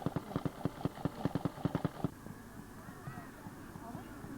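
An old hit-and-miss farm engine fires in a rhythmic series of distinct, uneven thumps, then coasts quietly with background murmur at an outdoor engine show.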